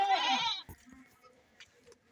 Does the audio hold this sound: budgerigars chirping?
no